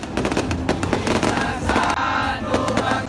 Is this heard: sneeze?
no